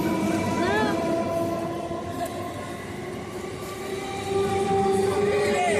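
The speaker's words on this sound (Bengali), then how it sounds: "আর ট্রেন চলে যাচ্ছে।" A train rolls past close by near Bardhaman station and bridge, a steady loud rumble of wheels and carriages running throughout, with rising tonal squeals from the rails, while people talk over it.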